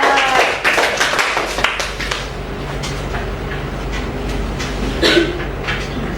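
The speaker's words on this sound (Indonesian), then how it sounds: "tepuk tangan untuk kelompok 3" Audience clapping for a student group's presentation in a classroom, a burst of claps that starts strong and then fades into a steady, diffuse patter with some room noise.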